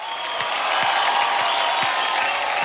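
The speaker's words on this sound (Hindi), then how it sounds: "एक बार जोरदार तालियां मारिए आदित्य के लिए" A studio audience claps loudly at a Hindi comedy show, steady dense applause filling the whole stretch with a faint crowd murmur underneath.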